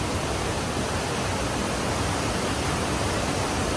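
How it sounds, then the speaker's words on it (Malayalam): A loud, steady roar of heavy rain mixed with rushing water, constant and dense throughout with no voices. "ഒരു രക്ഷയില്ലാത്ത മഴ അതുപോലെ തന്നെ വെള്ളം കുത്തിയൊലിക്കുന്ന വെള്ളം"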